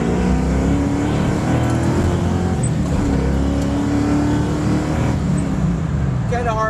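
A 1969 Camaro pulls hard in second gear, its engine note climbing loud and steady from inside the car, with someone talking over it.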